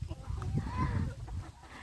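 Chickens cluck nearby in a low, busy stream of short murmured calls, with one brief louder squawk, at a quiet level.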